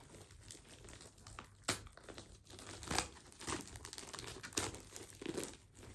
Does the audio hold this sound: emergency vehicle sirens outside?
no